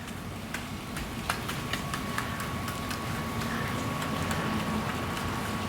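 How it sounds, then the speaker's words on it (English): Rain falls outdoors on a farm with a steady diffuse hiss, broken by irregular ticking drips of drops striking nearby surfaces. "it's raining, and sometimes you got to play in the rain in your jammies"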